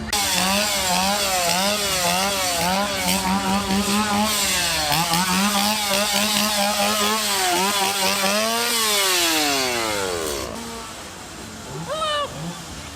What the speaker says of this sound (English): they brought back the chainsaws for the first time since, I think, 2019